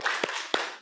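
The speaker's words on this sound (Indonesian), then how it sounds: "mari kita sama-sama tepuk sip-sip" A classroom of eighth-grade junior high students does the rhythmic "tepuk sip-sip" clap, with two sharp, close group claps over steady room noise.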